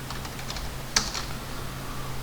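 A single sharp key press on a computer keyboard while working in CAD drafting software; one crisp click stands out against a low steady background hum, with faint softer taps around it.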